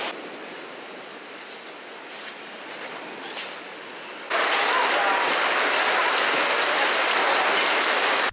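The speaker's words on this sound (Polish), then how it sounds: "zaczyna już pomału nadciągać burza i padać deszcz" Rain sets in on a beach at Krynica Morska as a storm approaches: a soft, steady patter, then a sudden jump to a loud, dense, continuous downpour hiss, with no talking.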